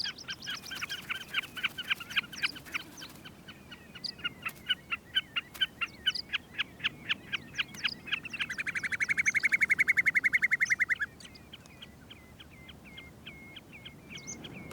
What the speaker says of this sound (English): Another wading bird, the snipe, adds its call to the symphony of summer sounds.